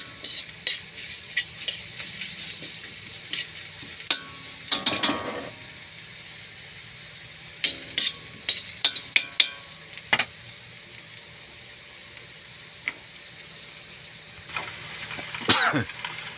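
Catfish adobo is stirred in a frying pan, a soft steady sizzle broken by scattered scraping and clinking utensil strokes, near and fairly quiet.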